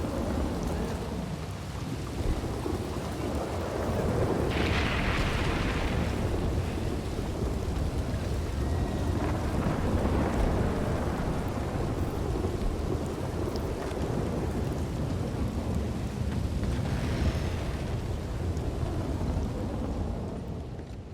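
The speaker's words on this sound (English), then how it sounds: "It is pissing rain." Heavy rain pours steadily in Red Dead Redemption 2 while thunder rolls and rumbles through it, a dense, continuous downpour lasting the whole stretch with no voices.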